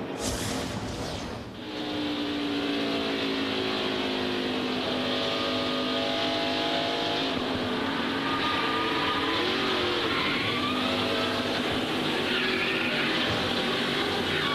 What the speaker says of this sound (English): Let's ride with Kenny Wallace through turn 2